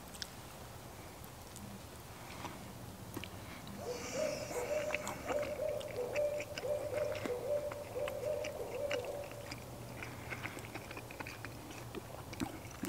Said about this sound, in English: There's an owl going nuts over here.